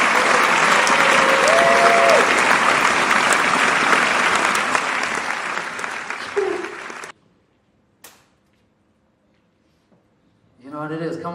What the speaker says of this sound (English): Please give a big round of applause for Luna Florentino